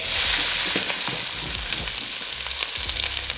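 Onion hits hot oil for an Indian dhal and fries with a loud, steady sizzle and crackle, dense spattering pops running throughout with no voices.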